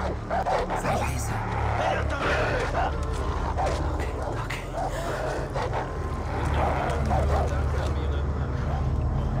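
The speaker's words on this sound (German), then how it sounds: "Das regt sich der Hund so auf." Dog barking in the video game Far Cry 3, repeated yips and barks mixed with game ambience and engine-like rumble, with a voice talking over it throughout.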